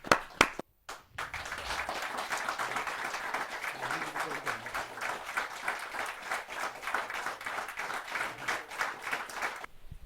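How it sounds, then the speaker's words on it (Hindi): Applause from a poetry-gathering audience welcoming a poet, steady dense clapping that starts after a brief pause and holds loud and even for several seconds before cutting off. "आप सबकी जोरदार तालियों से स्वागत करते हैं।"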